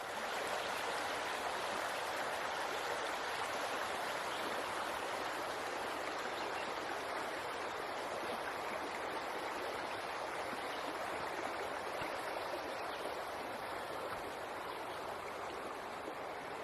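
A fast-flowing trout stream in a forest rushes with a steady, unbroken wash of water, moderately close and constant for the whole stretch, with no voices.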